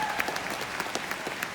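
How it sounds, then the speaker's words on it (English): A conference audience at a Mary Kay leadership event in Nashville claps in a steady, dense round of applause from many hands. "let's give them another round of applause"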